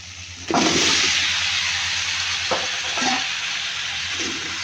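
Cut pumpkin pieces drop into a hot pan of oil for hilsa fish curry, setting off a loud burst of sizzling that settles into steady frying, with a few scraping stirs.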